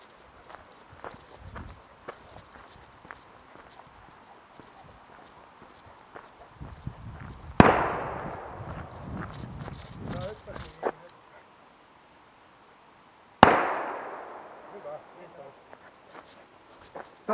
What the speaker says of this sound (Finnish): ensimmäinen laukaus tulee kävelyn aikana